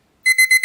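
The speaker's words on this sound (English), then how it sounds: "unfortunately, the buzzer did just end." Four rapid electronic beeps ring out loud and close as the buzzer sounds at the end of a women's Olympic basketball game, each tone short and evenly spaced.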